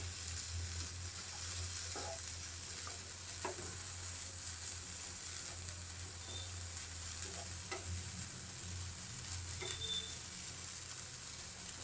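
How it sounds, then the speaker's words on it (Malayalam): Grated coconut and chopped shallots dry-roast in a frying pan with a soft, continuous sizzle and occasional light scraping of stirring, quiet and close. "1 കപ്പ് തേങ്ങ ഇട്ട് അതിൻ്റെ കൂടെ ഒരു 2 ചെറിയ ഉള്ളി അരിഞ്ഞതുകൂടെ ചേർക്കാം. നമുക്കിനി ഇതൊന്ന് നല്ലോണം വറുത്തെടുക്കാം"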